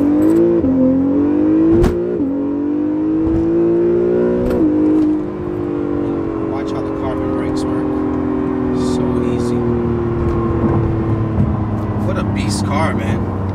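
A car accelerates hard down an open strip, its engine note climbing steadily through the gears with a rising whir and a loud, continuous roar close to the microphone.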